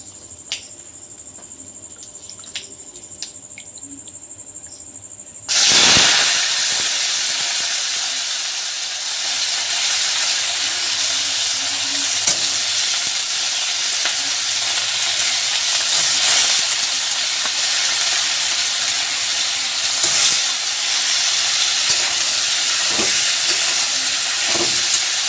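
Pumpkin pieces tossed into hot oil with panch phoron spices burst into a loud sizzle after a quiet opening. The steady, close frying hiss then continues for about twenty seconds, broken by occasional stirring clicks.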